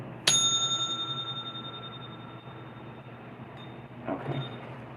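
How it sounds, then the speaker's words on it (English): A single bell is struck once, giving a bright, clear ring that rings on and slowly fades over several seconds, close and alone, followed by a soft rustle near the end. "I'm gonna ring the bell."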